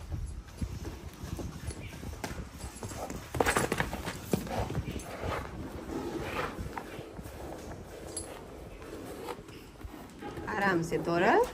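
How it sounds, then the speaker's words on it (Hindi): A mare's hooves clop along at a slow walk in a rural yard, irregular soft thuds under near continuous talk, with background noise throughout. "घोड़ी थोड़ी देर चक्कर लगा ले, फिर घोड़ी अंदर चली जाएगी"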